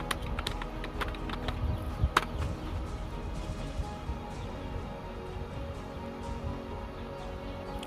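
A few quick taps on a laptop keyboard while searching for Amazon affiliate in Google Chrome, light clicks clustered early and fading into a low steady room hum.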